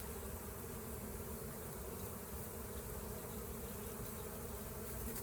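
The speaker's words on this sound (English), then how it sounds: "bees are between the two hives." Honey bees buzz around and between two hives during honey extraction, a dense continuous hum from many insects at close range, faint overall and with no talk.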